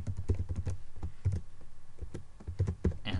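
Typing on a computer keyboard while coding a PHP/Laravel forum website: steady, close clicking keystrokes in quick uneven bursts, with short pauses between groups of taps and no voice.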